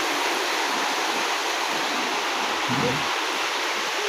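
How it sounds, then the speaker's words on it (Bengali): Steady, dense hiss of heavy rain pouring down, loud and continuous with no break. "আবারও বৃষ্টি আবারও বৃষ্টি কত বৃষ্টি হচ্ছে সবাই দেখেন"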